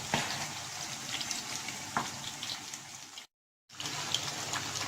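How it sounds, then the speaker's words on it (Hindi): Marinated fish frying in a pan gives a continuous crackling sizzle with a few sharper pops, broken by a brief total dropout partway through. "ये मछली जो है ये फ्राई हो रही है"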